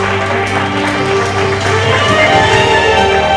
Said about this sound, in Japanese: 拍手がやばいな。